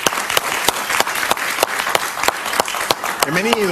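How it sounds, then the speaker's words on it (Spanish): An audience applauds to welcome a guest at a televised Venezuelan political event, with a steady beat of loud clapping and a voice talking over it. "Un aplauso para él, por favor."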